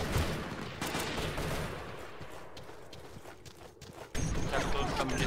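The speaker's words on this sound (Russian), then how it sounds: "Пиздец, там пулемет." Machine gun fire in a video game set in a lost desert city, a dense, crackling stream of rapid shots running throughout, with a louder burst near the end.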